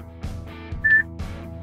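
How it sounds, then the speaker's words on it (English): A single short electronic voice-recognition prompt tone from a 2014 Toyota 4Runner, a steady pure beep lasting about a fifth of a second, sounding between bursts of a recorded voice prompt. "After you hear the beep, you can say one of the category names"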